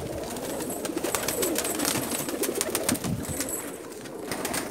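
Breeder pigeons on a rooftop coo in a soft, continuous murmur, with flock sounds and faint rustling from close by throughout.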